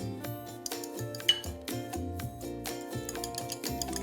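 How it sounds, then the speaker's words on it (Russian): Rapid, rhythmic clinking of a whisk beating egg mixture against a bowl, close and bright with irregular metallic taps, loudest near the middle. "Все взбиваем венчиком."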